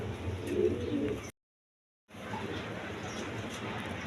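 Pigeons coo steadily at a pigeon farm, a dense low murmur of overlapping calls from many birds, broken by a short full silence before the cooing resumes.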